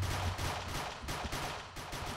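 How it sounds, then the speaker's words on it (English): Rapid bursts of gunfire in a Minecraft match on the Hypixel server, several loud volleys repeating in quick succession with no talk over them. "I hear gunfire."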